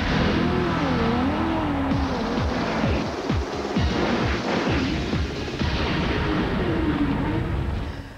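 Race cars at the 24 Hours of Le Mans endurance race, with Porsches leading, roar past in a steady loud wash of engine noise, several sweeping pass-bys and rising, falling revs, close and continuous.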